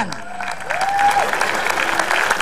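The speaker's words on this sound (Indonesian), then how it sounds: "Tepuk tangan." Studio audience applauding on an Indonesian comedy talk show, a steady wash of clapping filling the clip with a brief tonal sweep in the middle.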